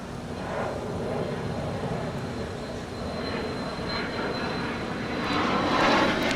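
An American Airlines jet takes off from runway 25 right at LAX with a steady, loud engine roar that swells toward the end. Heard from nearby, with no voices over it.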